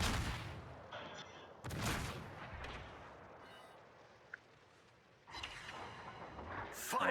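Naval gunfire and incoming shells in a World of Warships-style battle between the cruisers Myoko and Fiji, with a few heavy booming blasts and rumbling bursts heard at a moderate distance, set against quieter stretches of game ambience.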